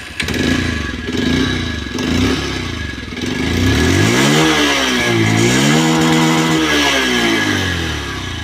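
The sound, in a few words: Bajaj Pulsar 125 motorcycle engine starting and revving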